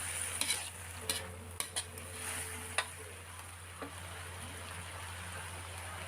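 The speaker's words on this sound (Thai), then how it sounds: "ผัดให้เข้ากันสักนิดนึงค่ะ" Wild sweet leaves are stir-fried with oyster sauce and sugar in a pan. A faint, steady sizzle runs under several light clicks and scrapes from stirring, with no talking.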